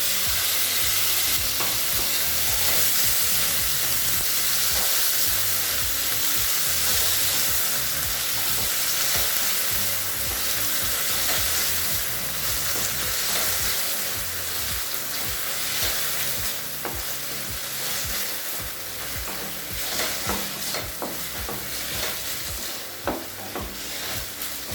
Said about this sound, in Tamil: தக்காளி நல்லா சாஃப்ட் ஆகிற வரைக்கும் வதக்கிக்கலாங்க.